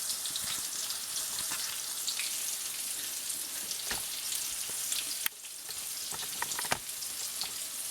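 Breaded chicken for chicken parmesan fries in a pan, a steady close hiss and crackle of oil with scattered pops and a brief stir or bump partway through, no talking.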